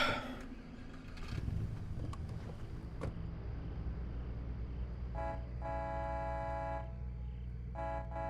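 A truck engine in the video game State of Decay rumbles steadily at a low pitch, with a couple of long horn-like blasts sounding near the end.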